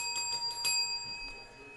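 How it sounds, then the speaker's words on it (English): Small bell rung several times in quick succession during a basketball trading card box break, bright metallic dings with a lingering ring, fairly quiet and close. "Get the bell ready here."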